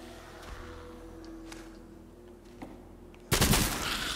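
Gunfire in the VR zombie shooter Arizona Sunshine Remake: sharp, loud shots burst out near the end, following quieter game ambience and a few faint clicks.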